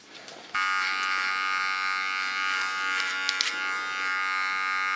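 Small electric hair clipper switching on and buzzing steadily with a bright, harmonic-rich whine at close range during a neckline and beard trim, constant and unbroken after a brief click at the start.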